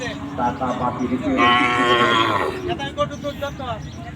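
A bull lows loudly in a long, strained moo at the Chandaikona cattle market, followed by a shorter lower call, with crowd chatter and people talking underneath.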